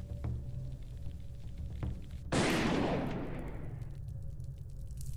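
A single loud shotgun blast goes off in a dark first-person video game, a sharp burst that rings out and slowly decays over a few seconds against steady low ambient background.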